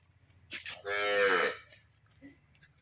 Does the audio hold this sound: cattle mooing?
yes